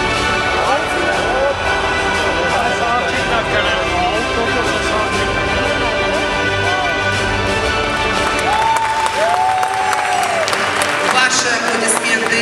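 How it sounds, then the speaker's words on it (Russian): Steady, dense applause from a crowd fills a Miss CIS 2022 beauty pageant hall, continuous and loud throughout, with music and a host's voice threaded underneath. "Ваши аплодисменты."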